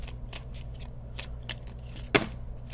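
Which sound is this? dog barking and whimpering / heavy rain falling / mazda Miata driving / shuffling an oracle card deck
shuffling an oracle card deck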